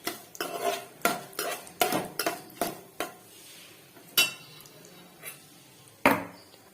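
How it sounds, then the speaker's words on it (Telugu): A spoon scrapes and clanks against a pan, stirring ginger garlic paste with cashews and curry leaves as they fry. The metallic knocks come in a quick irregular run, then thin out, over a faint background sizzle with no talking. "ఒక స్పూన్ అల్లం వెల్లుల్లి పేస్ట్ వేసేసి ఇది కొంచెం వేయించుకుందాము."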